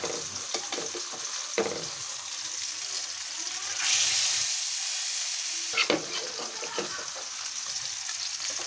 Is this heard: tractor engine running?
no